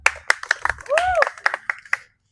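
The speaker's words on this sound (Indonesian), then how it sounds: "Oke, tepuk tangan dulu." A group of students claps hands in a rhythmic patterned sequence of sharp, close claps. A voice calls out briefly in the middle of the clapping.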